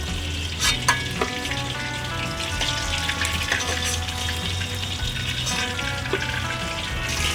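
Gurjali fish crackle and sputter in hot oil, a dense, continuous sizzle with small pops throughout and no speech.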